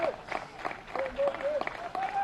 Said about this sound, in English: drawing cheers from our crowd